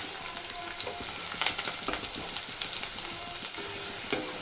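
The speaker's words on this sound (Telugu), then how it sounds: "తాలింపు దోరగా వేయించుకోవాలండి, మాడిపోకూడదు. కలపెట్టుకుంటూ ఉండాలా తాలింపు మాడిపోకుండా." Tempering spices fry in hot oil for a drumstick stew while a spoon stirs them, a bright continuous sizzle with scattered scraping clicks, close and loud.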